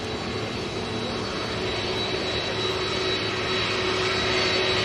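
An Airbus A320neo's jet engine spools up at Manchester Airport, a steady whining roar holding a thin high tone, heard from a distance and building slightly louder toward the end.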